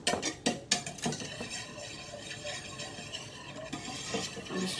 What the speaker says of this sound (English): I'm just trying to whisk that in.